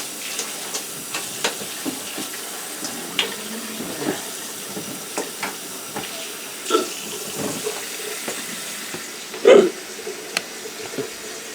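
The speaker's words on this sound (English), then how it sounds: "We'll wash it real good. Wash the potato real good." Red potatoes rinsed under a running kitchen tap, a steady close hiss of water into the sink with small clunks and splashes as they are handled, one louder knock near the end, no talking.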